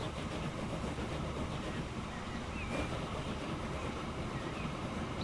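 A train backs out of sidings in Transport Fever 2, a steady loud low rumble and rolling noise that holds evenly throughout with no voices.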